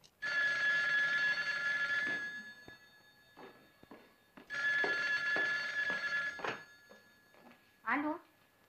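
Old-style telephone bell rings in two long bursts, loud and close, with brief speech and movement between the rings in an Egyptian film scene.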